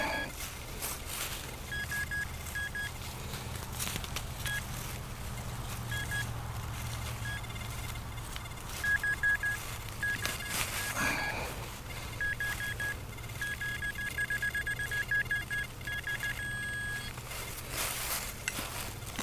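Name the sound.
metal detector tones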